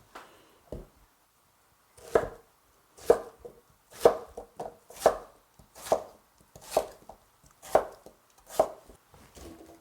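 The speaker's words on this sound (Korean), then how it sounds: "자, 이렇게 깍두기로 썰어주세요" Knife chopping peeled kohlrabi into kkakdugi cubes on a cutting board for vegan kkakdugi kimchi, about a dozen crisp, loud thunks in an uneven rhythm with short pauses between them, close and with no voices.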